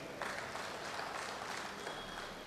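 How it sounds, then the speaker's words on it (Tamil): An audience at a Tamil comedy speech event claps, giving a soft, steady wash of applause heard from a distance for a couple of seconds. "கைத்தட்டுங்க."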